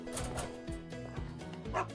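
A dog barks and yips in a video game, several short sharp barks in an uneven rhythm over a dense background of game sound.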